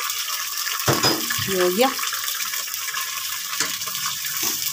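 Water pours and splashes into a cooking pan holding fried eggs and potatoes in hot oil, a steady running sound with a brief louder gush, while someone speaks briefly.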